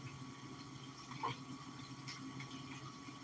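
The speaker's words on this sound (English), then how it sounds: "We're gonna use some water from the faucet, some hot water from the faucet" Hot water runs from a kitchen faucet as a faint, steady hiss of flow, with a brief splash near the middle and no talking.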